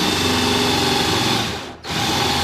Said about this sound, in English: Start slow, kind of hold up on the drill a little bit so that it's not just plowing right in.